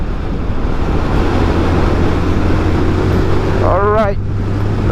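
A Zontes 350D motorcycle cruises in fifth gear, its engine a steady loud drone under heavy wind rush throughout, with a brief rising whine near the end.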